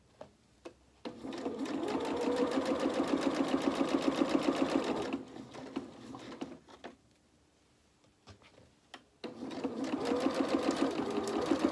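A sewing machine stitches a seam on a T-shirt dress in two steady, close runs, the second starting after a pause of a few seconds.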